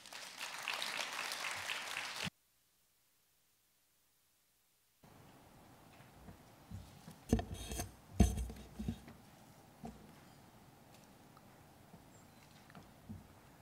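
Applause in a conference hall welcoming a university engineering dean to the stage at a Korean science forum, a moderate burst of clapping that cuts to silence, then scattered claps and clinks under quiet room noise.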